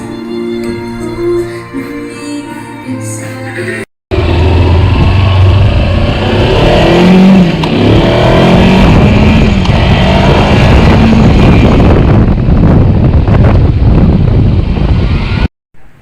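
A Kawasaki X300 motorcycle being ridden, with loud steady engine drone and heavy wind rush for about eleven seconds after a brief stretch of music-like sound, ending abruptly.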